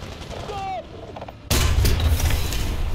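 A gunshot in an online war video game, fired at an enemy tank and bouncing off its armor: a sudden loud blast that cuts in midway and rumbles on, following a quieter stretch of background game sound.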